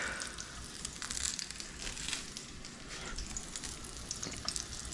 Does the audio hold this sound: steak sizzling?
yes